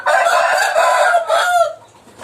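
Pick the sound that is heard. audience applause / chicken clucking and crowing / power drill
chicken clucking and crowing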